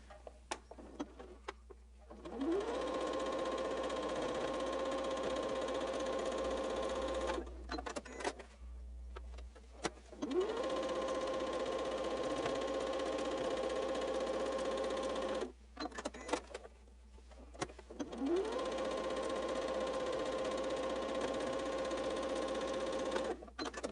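A sewing machine stitches quilt strips onto a pineapple quilt block, running in three long, steady whirring bursts separated by short pauses, close and clear with no talking.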